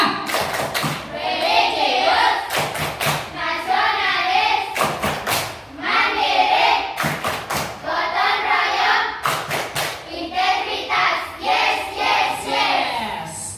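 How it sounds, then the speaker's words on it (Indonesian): A classroom of children performs the rhythmic PPK clap chant, bursts of sharp group clapping alternating with loud chanting voices in a repeating pattern, close and energetic throughout. "kita tepuk PPK dulu supaya semangat. Tepuk PPK."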